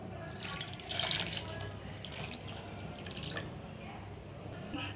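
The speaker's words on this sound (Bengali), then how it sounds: "প্রথমে একটু গরম জল করে নিচ্ছি, মাথাটার মধ্যে দিয়ে দেব" Hot water poured over a fish head in a bowl, a steady splashing stream with a swell near the start and trickling throughout, close and without speech.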